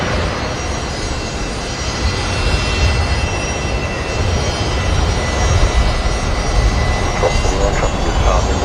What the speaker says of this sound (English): Jetstar A321.